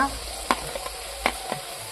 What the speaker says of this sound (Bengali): এখন আমি আলু আর মূলোটা দিয়ে দেব মূলো ভাজা